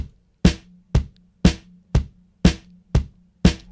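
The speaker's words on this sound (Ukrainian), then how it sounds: "Чотири босбочки, два снайра." A steady electronic phonk drum beat of four kicks and two snares at an even pace, each punchy and sharp, with no voices.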